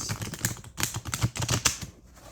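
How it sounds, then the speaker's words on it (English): Oracle cards are shuffled by hand, a close run of soft, irregular papery flicks and taps lasting a couple of seconds, with no talk. "And I've just shuffled them all crooked."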